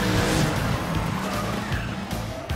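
A cartoon car called the Blustermobile drives hard and skids, giving a continuous rumbling roar with a squealing slide, loud and close.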